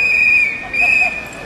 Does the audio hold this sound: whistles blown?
yes